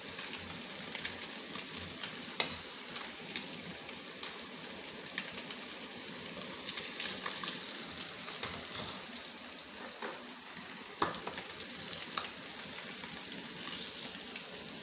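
Pork belly (liempo) frying in a pan, with a steady loud hiss of sizzling fat and intermittent pops and crackles, heard alone and close.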